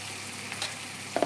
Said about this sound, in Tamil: இந்த மாதிரி கொஞ்சம் நல்லா செவக்கட்டோன்னிட்டு வறுத்துக்கணும்.